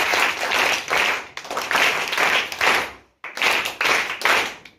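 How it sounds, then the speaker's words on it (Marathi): An audience at a school ceremony honouring quiz and competition winners applauds in two dense bursts of clapping, separated by a brief pause, fairly close and lively. "या चौघांच्या 3 टाळ्या वाजवून सगळ्यांनी स्वागत।"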